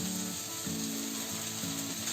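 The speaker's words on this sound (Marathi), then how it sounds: "आता बघा कढईमध्ये भाजी टाकते." Methi bombil vegetables sizzle quietly in a kadhai, a soft continuous frying hiss with faint rhythmic scraping or clicking sounds of stirring throughout, no voices.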